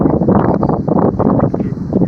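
Strong wind buffeting the microphone outdoors in stormy weather, a loud, gusty rumble that surges and dips continuously with no speech.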